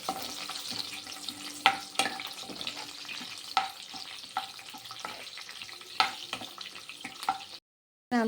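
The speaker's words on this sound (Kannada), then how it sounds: "ಈಗ ಇದಕ್ಕೆ ನಾನು ಈರುಳ್ಳಿ, ಒಣಗಿದ ಮೆಣಸಿನ್ಕಾಯಿ, ಕರ್ಬೇವಿನ ಸೊಪ್ಪನ್ನು ಹಾಕ್ಕೋತಾ ಇದ್ದೀನಿ." Onion, dried chillies and curry leaves crackle in hot oil for tempering a gongura chicken fry, a bright close sizzle broken by repeated sharp clinks and scrapes of a spoon against the pan, then a brief pause.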